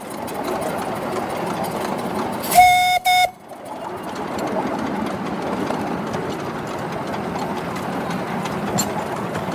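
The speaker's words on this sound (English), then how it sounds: "Give a little toot on the whistle." A single short, high whistle toot from a 7.25-inch gauge model steam locomotive rises over steady mechanical rumbling as it approaches a station, then the running noise continues at a constant level.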